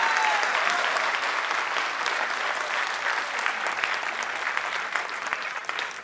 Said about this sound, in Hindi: मन कर रहा है ताली बजाने का, एक बार बजा लो यार।